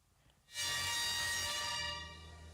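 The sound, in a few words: train on railway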